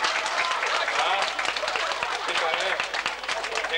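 A small crowd applauds after a magician's rabbit trick at a 1986 magic show in Björboholm, with a crackle of individual claps and a voice briefly over the clapping.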